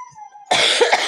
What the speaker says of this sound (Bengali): কথা বলতে বলতে বারবার কেসে দিচ্ছি